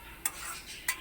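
Milk being stirred in a pot while making fresh mozzarella cheese, heard as two quick, sharp utensil scrapes against the pot over a faint, quiet background, with no talk.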